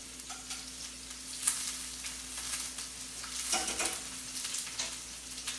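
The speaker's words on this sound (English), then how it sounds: "we're going to add our onions. We're going to let this simmer just a little bit." Onions sizzle and simmer in a pan, a continuous soft crackling hiss with occasional stirring scrapes, close but fairly quiet, with no talking.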